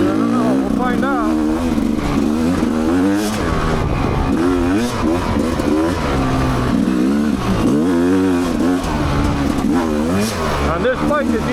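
Dirt bike motorcycle engine on an ORV trail, loud and continuous with revving pitch sweeps as the throttle rises and falls, close to the rider, with wind noise and talking over it.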